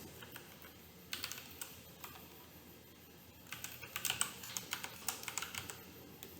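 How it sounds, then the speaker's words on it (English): Fingers type a password on a computer keyboard, producing quiet, irregular bursts of clicking keystrokes, sparse at first and then quicker and denser in the second half. "So administrator, and my password is capital P @ SSW0RD."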